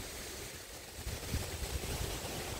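Strong wind roars and buffets continuously outdoors in nature, with low rumbling gusts swelling partway through; no voices.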